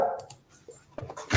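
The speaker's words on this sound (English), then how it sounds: "Don't stick your head out and bark." A dog indoors gives a couple of short, sharp barks, the first at the start and a louder one at the very end, with near-silence between.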